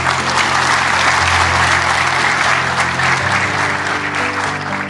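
A large audience at a talk on depression gives loud, sustained applause, a thick continuous roar of many hands clapping that stays strong for several seconds and eases slightly at the end.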